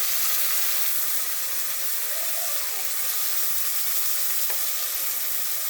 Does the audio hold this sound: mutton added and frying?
yes